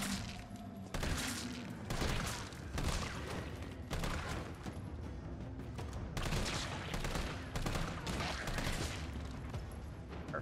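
Assault rifle fire in Resident Evil 3 Remake, loud dense bursts of rapid automatic shots running nearly the whole time after a brief quiet start, with short gaps between volleys.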